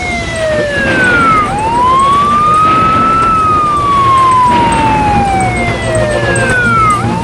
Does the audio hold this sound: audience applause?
no